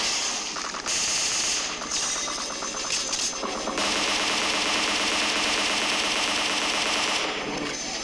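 Rapid automatic gunfire in a battle royale shooter match, with sustained bursts of fast repeated shots that pause briefly and resume, loud and close with no talking.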